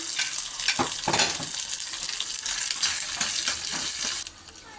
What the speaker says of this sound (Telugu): ఇలా బాగా ఫ్రై చేయాలి.